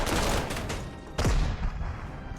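Infantry gunfire in the Panzer Corps 2 strategy game, set in the Spanish Civil War, raking an artillery position: a dense, continuous crackle of rifle and machine-gun fire, with a sharp louder burst about halfway through and no talking.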